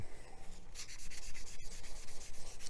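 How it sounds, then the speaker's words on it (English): Close, steady rasping of a sanding stick worked repeatedly across a broad flat surface of a plastic Mega Size Unicorn Gundam model kit part, quick rhythmic strokes with a brief pause midway and no voices. "When you're sanding big flat surfaces, try and go from multiple directions."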